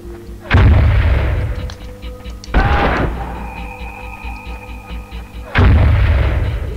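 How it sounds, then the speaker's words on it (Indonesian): A tank fires in the video game Spec Ops: Covert Assault: three heavy, booming cannon blasts spaced a few seconds apart, each with a sharp attack and a long rumbling decay, with faint mechanical whines in between. "kayaknya ditembakin tank deh ini."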